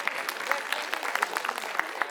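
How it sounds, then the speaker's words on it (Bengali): Audience members clap for a child's recitation of a Bengali poem at a Poila Boishakh cultural programme, a brief burst of crisp, scattered handclaps close by, with a voice faintly mixed in. "নিয়ালির জন্য আরেকবার জোরে হাততালি হয়ে যাক।"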